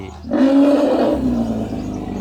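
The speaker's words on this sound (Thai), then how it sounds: "มีเสียงช้างร้องนะครับ" An elephant in Thailand gives a loud, close trumpeting call that rises sharply, holds a tonal bellow for under a second, then fades into a low rumble.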